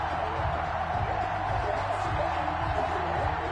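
In Madden 21, the virtual stadium crowd before a Las Vegas Raiders versus Pittsburgh Steelers kickoff swells in a steady, dense roar, with faint commentary underneath.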